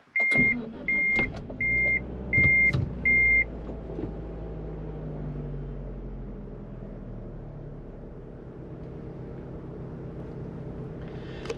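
Five evenly spaced electronic chimes ring out, then the engine of a 1991 Mitsubishi Galant VR-4 catches and settles into a steady, low idle.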